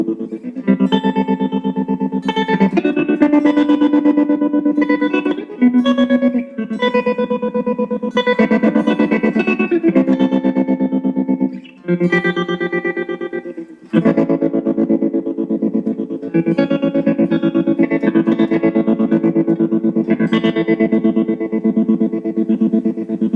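Electric guitar through a chorus pedal in Positive Grid Bias FX 2 software, clean chords and arpeggiated notes with a shimmering, gently wavering tone, played in phrases with short pauses, fairly loud and alone.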